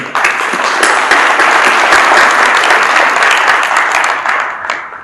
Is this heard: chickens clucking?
no